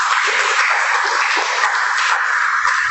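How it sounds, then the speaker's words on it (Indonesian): Dense, loud applause from a church congregation during a sermon, steady clapping throughout with no speech over it. "Tepuk tangan."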